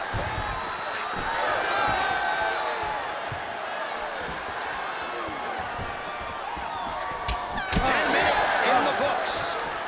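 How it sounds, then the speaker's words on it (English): A capacity arena crowd cheers and roars steadily for a UFC 5 welterweight bout, with a swell of noise near the end and a commentator talking over it. "standing ovation from this capacity crowd"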